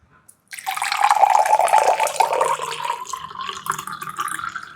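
Water poured from a bottle into a drinking glass: after a brief click, a continuous splashing, gurgling stream that gradually softens as the glass fills, heard close and with no talking.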